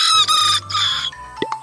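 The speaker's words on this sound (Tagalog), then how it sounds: "Bonus pa ang cute ng kanilang tilaok." A Serama chicken, a tiny pet breed, crows loudly up close in a short, high, strained cock-a-doodle-doo that ends in a couple of clipped clucks.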